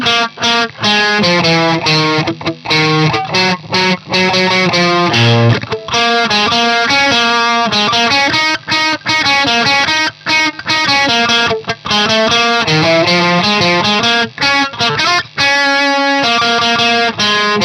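Loud distorted electric guitar slowly plays a solo, with steady picked notes broken by short muted-string chops, continuous and close with no voices.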